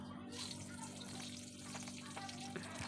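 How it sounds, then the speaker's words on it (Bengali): Nigella seeds, green chili and tomato fry in oil in a wok, making a faint, steady sizzle that carries quietly and evenly throughout. "কড়াইতে তেল দিয়ে কালো জিরে কালো জিরে আর কাঁচা লঙ্কা আর টমেটোটা দিয়ে দিয়েছি ভালো করে কষিয়ে"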